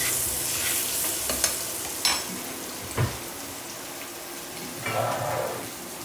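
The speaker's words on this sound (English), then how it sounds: "So we're going to use a little spoon, move it around. The chorizo's coming up nicely now as well." Butternut squash and chorizo fry in a pan as a spoon stirs them, producing a soft sizzle broken by a few sharp scrapes and knocks at irregular intervals.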